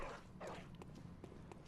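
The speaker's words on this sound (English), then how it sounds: "I just heard a dog" A dog in the video game Bloodborne, heard as a few short, faint barks spaced through a low ambient game backdrop, somewhat distant.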